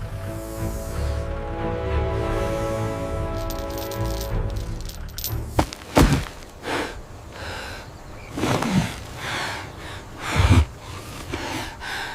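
A pregnant zebra, caught in a python's constriction, breathes heavily in harsh, labored gasps and snorts that come in irregular bursts over a low background rumble.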